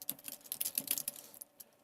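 Fast, close clicking on a computer keyboard while entering data into an Excel spreadsheet, a dense run of light keystrokes that thins out toward the end.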